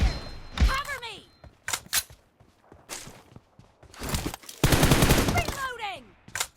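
Bursts of gunfire crack in quick clusters, with a rapid machine-gun-like volley near the end, while voices shout between the shots.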